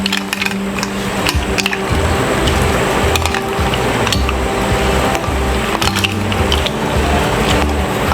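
Ice goes into a jug of mint lemonade, a close, loud, crunchy clatter of cubes knocking and grinding against each other and the container, continuing throughout.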